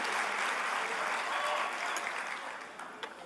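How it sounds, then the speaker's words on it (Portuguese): A crowd applauds steadily, a dense wash of clapping that slowly fades toward the end. "Aproveita então e aplauda essas pessoas que estão servindo para você estar aí."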